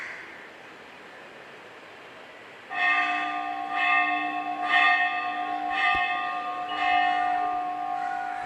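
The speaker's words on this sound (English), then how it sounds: "This is a very heavy bell and we need support." A very heavy bell rung at a cricket trophy ceremony, starting after a few seconds of quiet crowd ambience with repeated resonant clangs whose long, humming tones overlap and sustain throughout.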